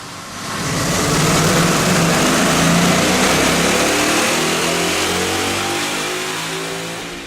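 Ford Mustang GT 5.0 (2011) fitted with BBK headers and an aftermarket X-pipe revving hard on a dynamometer, a loud sustained engine roar that rises through the rev range and then slowly tapers off.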